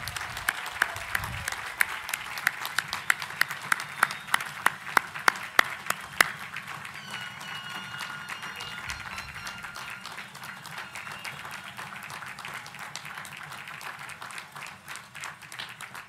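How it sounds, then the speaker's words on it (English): Commencement audience applauding master's degree recipients at a spring graduate ceremony, steady broad applause from a large crowd with a few sharp nearby claps standing out early, fading slightly toward the end. "how about a big round of applause for all of our master's degree recipients?"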